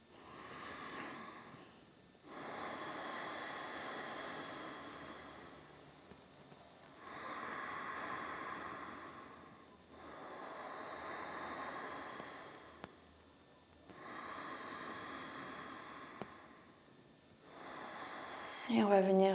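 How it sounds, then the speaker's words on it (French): Ujjayi breathing during Ashtanga yoga: about four slow, long breaths close to the mic, each a soft, throaty hiss lasting a few seconds, separated by short quiet pauses. "On va prendre quelques respirations Ujjayi ici."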